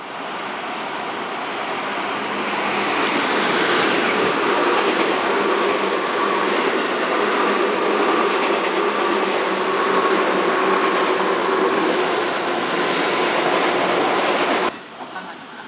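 A Tobu semi-express train bound for Ikebukuro pulls out of the station, its rumble and rolling wheels swelling to a loud, steady roar that holds for many seconds before cutting off abruptly.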